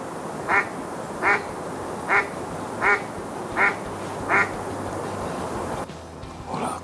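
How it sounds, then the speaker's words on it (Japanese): A sleeping spot-billed duck gives six evenly spaced soft quacks about a second apart, close and clear over steady outdoor ambience, then goes quiet. "もう寝てる子が寝ながらクワクワ言ってますよ。"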